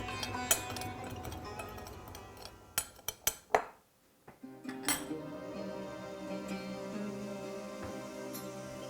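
Pieces of wild-caught Oregon steelhead being mixed with turmeric powder and salt in a bowl, a cluster of clinks and knocks of utensil against dish in the middle, then quieter handling.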